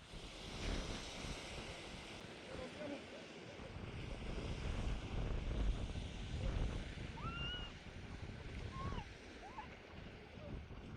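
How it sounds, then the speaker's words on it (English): Cold, harsh wind buffets the microphone at the Arctic Ocean shore in Norway near the Russian border, with waves washing in steadily underneath and a few faint bird calls in the background. "Arctic Ocean, and here we have it. And it's pretty cold and nasty winds right now"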